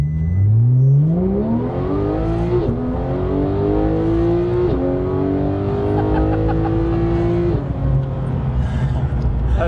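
A Porsche 911 GT3 of the 991.2 generation accelerates hard, its engine note climbing steadily through the revs with brief dips at each gear change, loud and close from inside the car.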